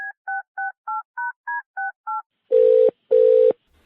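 Phone dialing on a keypad: eight quick, evenly spaced touch-tone beeps, then two long ringback tones, clean and loud with silence between.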